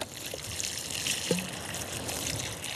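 Water is poured to settle a newly planted apple tree on a sunny hillside garden, giving a soft, steady trickle and splash into soil, faint and continuous over a quiet outdoor background.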